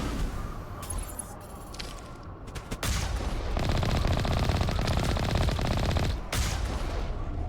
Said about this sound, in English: Oh, we're getting shot at already.